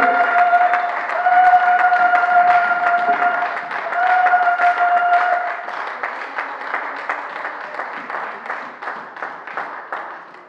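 A church congregation applauds continuously for about ten seconds, a dense, steady clapping with one sustained musical tone held over the first half before the clapping carries on alone.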